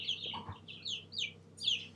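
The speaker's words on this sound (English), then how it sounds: "Did the chickens wake you up?" Chickens cluck nearby in a quick series of short, bright calls, several overlapping notes rising and falling over two seconds, fairly quiet with no talk.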